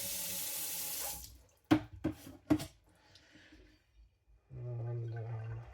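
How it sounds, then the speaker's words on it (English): A knife is rinsed under a running tap, the water stream splashing continuously, then stopping for a few sharp knocks and clatters before flowing again. "I'm gonna just rinse it."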